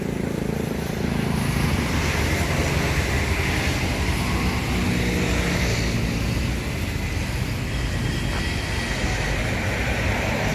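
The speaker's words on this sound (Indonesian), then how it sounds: "Itu bus HD nih." A large HD coach bus rumbles past on a muddy road near Palembang, a loud, continuous engine and road roar holding steady throughout with no voices.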